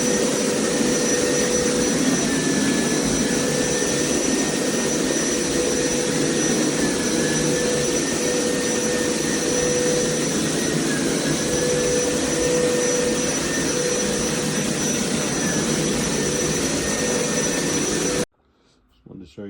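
A Hoover Powerscrub XL Pet carpet cleaner, model FH68002, runs with a loud, steady motor whine and rushing airflow close by, then cuts off abruptly near the end.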